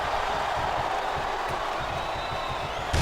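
Wrestling crowd chanting in the SmackDown vs Raw 2008 video game during an Edge vs CM Punk match: a steady, rhythmic arena chant with pulsing beats, loud and continuous throughout.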